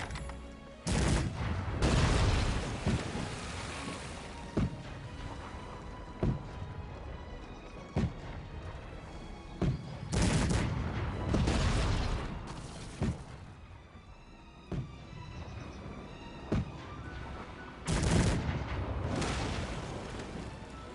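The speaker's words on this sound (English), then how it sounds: "Those cannons are doing a lot of damage." Cannons fire in a Cossacks 3 battle, booming one by one at irregular intervals. Louder clustered barrages of explosions break out several times amid ongoing battle noise.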